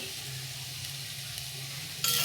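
Ground spices (salt, turmeric, coriander and cumin powder) sauté in oil for a soybean potato curry. A constant close sizzle builds into a sudden louder hiss at the very end.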